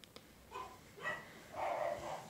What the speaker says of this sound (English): And there are the dogs barking